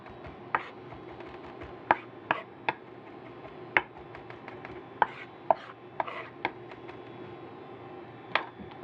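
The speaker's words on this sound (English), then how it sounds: "Keep rough chopping." A knife rough-chops vegetables on a cutting board in a healthy cooking workshop, giving irregular sharp chops over a low room murmur, some louder and nearer, spread through the clip.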